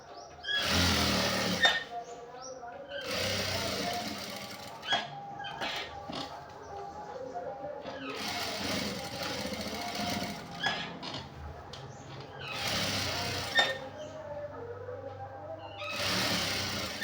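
Sewing machine stitching khadi cloth shorts, close rapid whirring runs of stitching in several bursts with brief pauses and soft clicks between them, fairly quiet overall.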